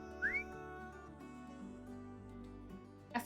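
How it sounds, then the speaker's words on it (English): A person gives a short rising whistle near the start, over steady low background music and game sound during a Tomb Raider stream. "I look like I insulted him when I whistled"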